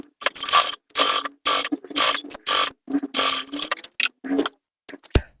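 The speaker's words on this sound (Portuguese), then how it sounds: "E vou passar uma costura aqui, ó." A sewing machine stitches a visible decorative seam on a handbag with synthetic trim, running in about a dozen quick mechanical bursts separated by short stops, close and clear with no voices.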